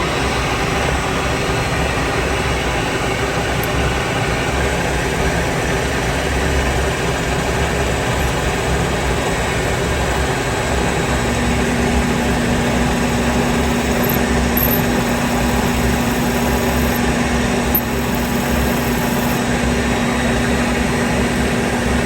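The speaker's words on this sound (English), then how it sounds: "So we're going to drill this part first." A spotting drill bores into a steel bolt with a steady, continuous whirring grind and low mechanical hum that holds even for about twenty seconds, close and loud, with no talking.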